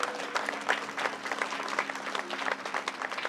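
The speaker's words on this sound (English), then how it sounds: "Let's give a round of applause" Crowd applause at an outdoor centennial ceremony for a veterans memorial boulevard, a sustained, even burst of many hands clapping throughout.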